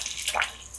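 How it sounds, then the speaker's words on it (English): Water is poured into a black acrylic paint medium, a brief, soft splashing trickle that swells for a moment and fades against a steady background hiss. "I'm going to add quite a bit of water, but not too much."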